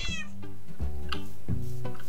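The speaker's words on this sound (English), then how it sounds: "I hear cat meowing." A cat meows repeatedly at close range, drawn-out plaintive calls that come two or three times in quick succession over a steady background hum.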